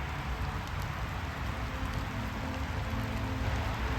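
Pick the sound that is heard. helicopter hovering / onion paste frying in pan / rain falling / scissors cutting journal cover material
rain falling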